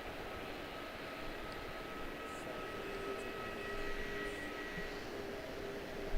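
Airbus A319 jet engines spooling up at Charlotte-Douglas International Airport, a steady distant roar with faint whining tones holding throughout and a slight swell toward the end.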